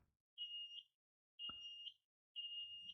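The buzzer of a Heles YX-392TR analog multimeter sounds three sustained high-pitched beeps, each about half a second long with even gaps, plus a single sharp click between the first two.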